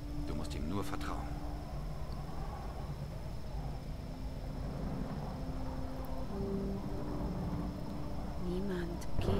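Storm thunder rumbles low and steady in Tomb Raider 2013, with rain-like hiss underneath, while a character speaks over it throughout.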